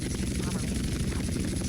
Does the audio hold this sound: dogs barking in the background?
no